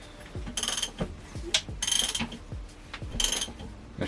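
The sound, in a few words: ratchet with 18mm socket turning engine crankshaft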